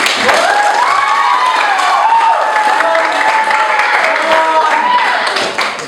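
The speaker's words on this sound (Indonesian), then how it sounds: "Sebelumnya beri tepuk tangan untuk kita semua." A classroom group claps together at the end of a lesson, a steady, fairly loud wash of hand clapping lasting the whole stretch, with voices calling and talking over it before it tails off.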